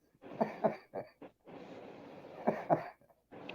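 Two bouts of harsh, close coughing from smoking, each a cluster of rough hacking bursts separated by a brief pause.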